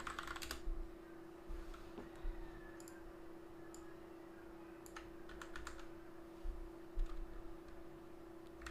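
Quiet, scattered keystrokes clatter on a computer keyboard as a command is entered, coming in short bursts and single clicks over a steady electrical hum.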